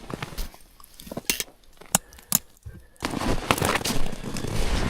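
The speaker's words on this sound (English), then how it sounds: "Do some dishes real quick." Dishes and pots being washed outdoors on a frigid winter camping trip, with scattered sharp clinks and clatters of metal cookware, quiet gaps between them, then a steadier rush of scrubbing or splashing toward the end.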